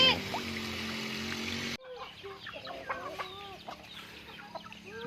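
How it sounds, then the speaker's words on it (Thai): Hens cluck and chatter in short, repeated calls, close by, with a steady noisy hum in the first couple of seconds that then drops away. "นี่เลี้ยงไก่ครับ"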